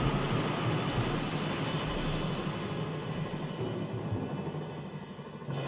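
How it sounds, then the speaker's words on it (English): A helicopter flies overhead to make wind on a 1964 film set, heard as a loud, steady broadband rotor and engine roar that fades slightly toward the end, with no talk over it. "You can even hear the helicopter flying overhead that gives them the wind."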